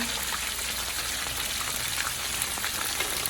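Okra frying in a pan over medium-high heat, a steady dense sizzle with faint crackles and pops throughout, close and unbroken with no talk.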